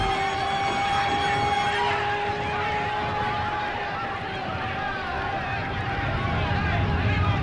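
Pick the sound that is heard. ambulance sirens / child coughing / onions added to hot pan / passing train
ambulance sirens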